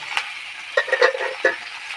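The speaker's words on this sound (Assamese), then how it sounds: "আৰু লৰাই দিছোঁ ভালকৈ" Potatoes frying in a pan with onions as they are stirred, several quick metallic spoon scrapes and clinks over a light sizzle, close and clear with no talking.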